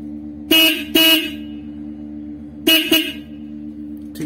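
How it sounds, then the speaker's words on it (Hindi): Motorcycle horn with a fault that keeps it from sounding properly, blaring in four short honks in two pairs over a steady low electrical hum, close and loud. "तो हॉर्न की प्रॉपर आवाज नहीं आ पाती है"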